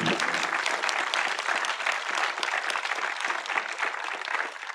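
A live audience at a podcast taping on 2018 Emmy nominees claps for the panel group, producing sustained, even applause from many hands throughout, with no speech over it.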